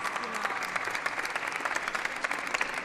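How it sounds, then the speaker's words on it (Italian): Studio audience on an Italian TV show claps steadily for a guest, a dense, even patter of many hands at moderate level lasting a few seconds with no pause. "Un applauso a Valentina"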